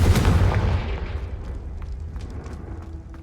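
A Confringo fire spell blasts off in Hogwarts Legacy, giving one loud, booming burst at the start that rolls into a fading rumble, with faint crackles lingering afterward.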